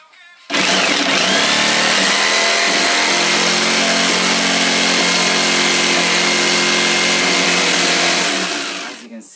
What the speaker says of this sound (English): So now I'm going to cut this out with the jigsaw